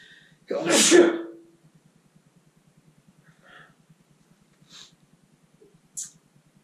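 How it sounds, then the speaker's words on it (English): A single sharp, loud human sneeze near the start, followed by quiet with a faint rhythmic low hum and a few small clicks or breaths. "We don't edit sneezes out here."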